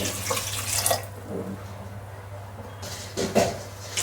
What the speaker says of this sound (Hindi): अब इनमें हम डाल देते हैं पानी।